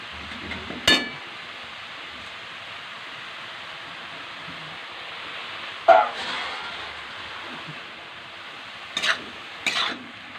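Wild chatu mushrooms stirred in a cooking pan, with a few scattered, sharp clinks of a utensil against the pan over a faint, low sizzle.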